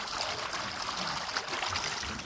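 Jivamrut, a cow-based liquid fertiliser, runs from a barrel through a hose and bag into farm irrigation water, making a steady rushing trickle that holds even and unbroken with no voices.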